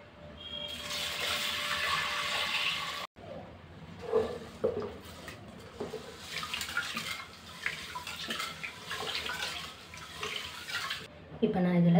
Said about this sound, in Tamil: இப்போ நான் இதில் தண்ணி சேர்த்துருக்கேன்.